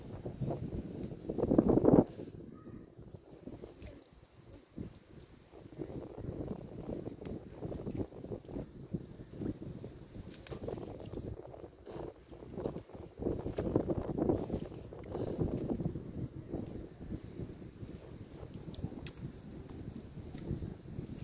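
Rough, gusty wind buffets the microphone outdoors by the shore among mangroves and bamboo, rumbling low and unevenly with stronger surges, over faint background movement.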